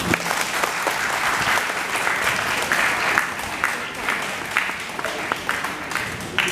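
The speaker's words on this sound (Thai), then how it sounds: "ขอให้ท่าน ปรบมือต้อนรับ" An audience claps steadily to welcome a lam tat performer, with dense, sustained applause and crowd murmur running throughout.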